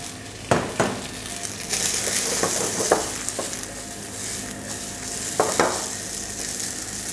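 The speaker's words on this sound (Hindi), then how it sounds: "वेजिटेबल हमारे पास कैप्सिकम और टमाटो कटे हुए वो डाल देने हैं" Chopped capsicum and tomato go into a sizzling pan with noodles, producing a continuous frying hiss broken by a few sharp clinks and scrapes of utensil against the pan.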